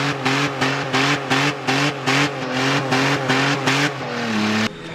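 A Holden VS Commodore drift car with an Ecotec engine and a janky exhaust setup, revved hard in a steady run of about ten loud, rhythmic blips that rise and fall, then settle into a harsh raspy hold.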